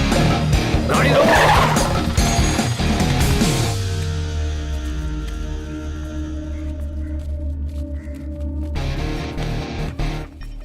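A car in a Hindi-dubbed South Indian horror film brakes hard with a loud tire skid and screech, then the engine settles into a low steady idle over a background music score.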